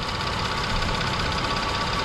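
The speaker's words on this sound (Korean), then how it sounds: "제 엔진 소음 좀 들어보십시오. 제가 지금 엔진 소음 자체가 없어요." A Hyundai Maxcruz gasoline SUV idles smoothly and quietly, giving a steady, even engine hum with no clear knocks or revs, close by and heard alone.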